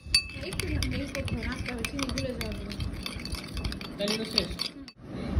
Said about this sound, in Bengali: এই নাড়িয়ে দিতে হবে।